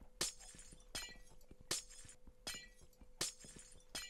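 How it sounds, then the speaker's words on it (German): Glass blocks shatter repeatedly in the video game Minecraft, five crisp breaking crashes at a steady rhythm about every three-quarters of a second, with faint clicks between them. "ich mache das Glas eben hier kaputt"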